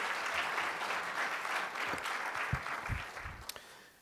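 A lecture audience at the University of Vermont claps steadily to welcome the speaker, a dense, even applause that thins into a few scattered claps and fades out.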